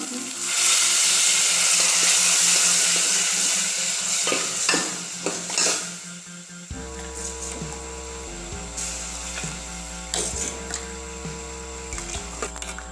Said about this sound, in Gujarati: તો ટમેટા ચડી ગયા છે તો હવે આપણે એમાં દાળ નાખીશું।